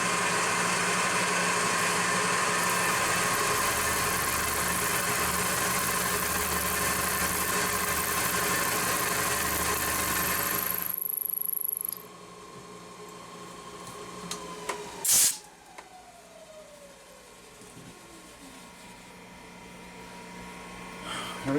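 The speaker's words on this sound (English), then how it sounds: "I'm going to use this stubby 3/8 inch cutter. It's a 3 flute, and I'm only going 3/8 inch depth of cut." Slotting cut on a milling machine with a stubby 3/8 inch three-flute end mill at 3/8 inch depth: a steady, loud mechanical whir for about eleven seconds, then it drops to a quieter hum with a brief clatter.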